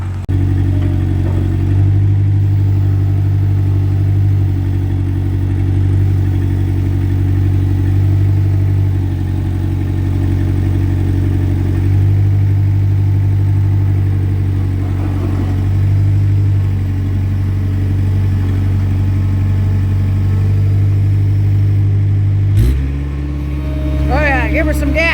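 A vehicle engine idling and revving steadily beside a Bluebird building being lined up, a loud, sustained low drone with a few swells, ending in a sharp clunk and a brief squeak.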